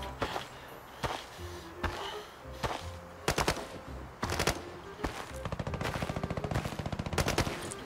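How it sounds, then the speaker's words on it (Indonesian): Sharp bursts of gunfire in the game Arena Breakout crack out in bursts, ending in a rapid machine-gun rattle, with video game sound effects between shots. "Ada tembakan di ujung."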